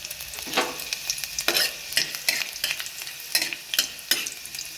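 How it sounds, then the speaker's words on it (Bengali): Black pepper and chopped garlic frying in hot oil for restaurant-style gravy chowmein, with a steady sizzle broken by repeated scraping stirs of a spatula in the pan, close and fairly loud. "তেলে দিয়ে দিচ্ছি প্রথমে গোলমরিচটা, 1-2 মিনিট ভাজার পর গোলমরিচ থেকে একটা সুগন্ধ বেরোলে দিয়ে দিচ্ছি রসুন কুচি"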